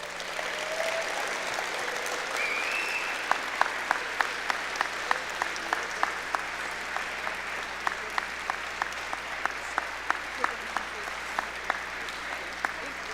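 Audience applause at an indoor investiture dinner and ceremony honouring the 2024 inductees: a steady, dense wash of clapping from a large crowd, continuing evenly throughout with a few sharper claps standing out.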